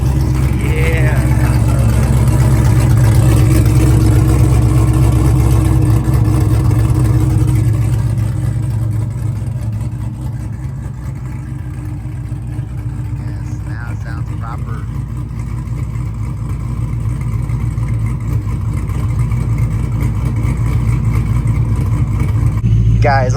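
A cammed, straight-piped Jeep SRT8 rumbles loudly at a traffic light, its deep, uneven chop steady and close, easing slightly midway and then swelling again.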